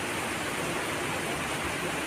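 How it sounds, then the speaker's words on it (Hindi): Heavy monsoon rainfall in Shimla hisses as a dense, unbroken wash of noise, steady and loud with no voices. "बारिश का मौसम है, बारिश तो होनी चाहिए"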